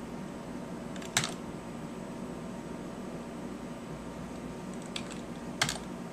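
Computer keyboard on a Raspberry Pi setup clicked in a few short, separate bursts of keystrokes against a steady fan-like room hum, with long gaps between.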